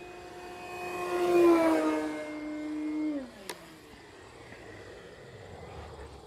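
A radio-controlled Carbon Z Cessna 150T model airplane makes a high-speed pass, its electric motor whine rising in pitch and volume as it approaches, then dropping sharply and fading as it flies away, with no talk.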